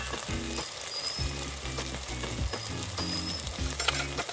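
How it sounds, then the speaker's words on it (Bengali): Spice masala of turmeric, chili powder and cumin powder sizzles and fries in a pan, a continuous crackling hiss broken by repeated scraping stir strokes at a fairly even rhythm, moderately quiet and with no talking. "কষে নেবো মশলাটা"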